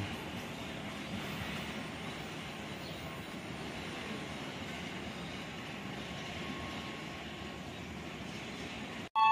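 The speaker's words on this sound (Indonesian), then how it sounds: "kereta api Gunung Jati dari Cirebon tujuan akhir Gambir telah meninggalkan stasiun Kiara Condong" Gunung Jati passenger train from Cirebon to Gambir pulling out of Kiara Condong station, a steady broad rumble of wheels and engine holding at an even level throughout, cut off abruptly near the end.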